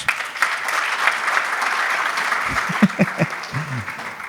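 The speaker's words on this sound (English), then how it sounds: "Give him a round of applause" An audience gives a round of applause for an author at a talk in Mumbai, continuous clapping that carries on while a voice speaks briefly over the second half.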